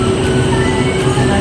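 An LRT light rail train in Metro Manila rumbles loudly and steadily from on board or very close by, with a constant low roar and faint wheel hum and no pauses.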